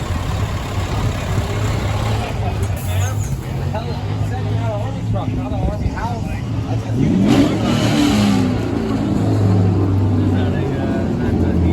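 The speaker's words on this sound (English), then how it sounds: "That's my quarter-ton Army truck." A quarter-ton Army truck engine revs steadily and fairly loud, its low rumble swelling louder around the seventh second, with people talking over it throughout.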